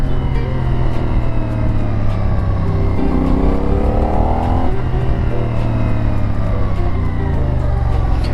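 A CFmoto 450NK motorcycle engine hums continuously while riding slowly through a U-turn on city roads, a steady low rumble with a brief rising rev in the middle.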